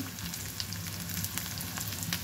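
Onion paste sizzles and crackles in a hot frying pan with beef tripe, a close, continuous frying hiss with small pops and stirring.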